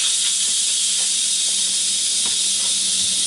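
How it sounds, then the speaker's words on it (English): An Instant Pot Duo Crisp pressure cooker releases steam in a loud, constant, close hiss that stays unbroken throughout. "Now I still had quite a bit of steam left in it, but it's about gone now."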